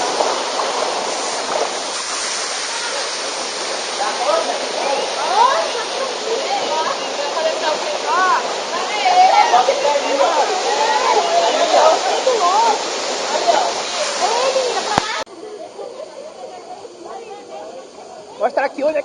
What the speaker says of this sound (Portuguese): Cachoeira do Capelão,